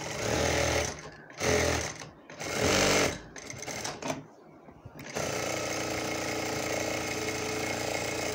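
A Juki industrial sewing machine stitches loudly up close, running in several short whirring bursts with brief pauses, then settling into a steady continuous hum of rapid needle strokes.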